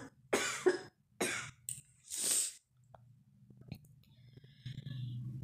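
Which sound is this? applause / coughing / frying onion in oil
coughing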